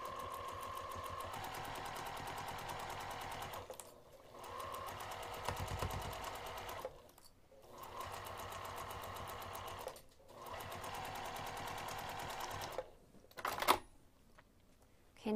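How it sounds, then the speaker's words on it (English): A sewing machine stitches a pinned fabric edge with a 1/4 inch seam allowance, whirring in steady close runs broken by short pauses, with a faint click near the end. "I'm going to sew this pinned edge using 1/4 inch seam allowance."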